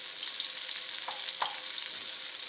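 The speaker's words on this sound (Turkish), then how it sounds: "eriyen tereyağımın üzerine yarım çay kaşığı pul biber" Chili flakes sizzling in melted butter, a close, steady hiss of frying fat with a couple of faint clicks partway through, no voices.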